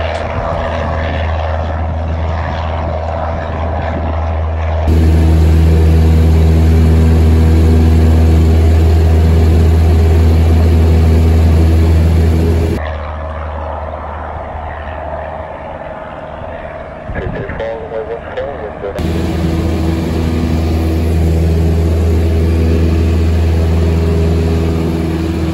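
Cessna 172 single-prop engine roaring loud and close from the cabin during takeoff near Leeds Bradford, a steady deep drone with whining overtones that shifts in pitch and intensity as power changes, continuous throughout.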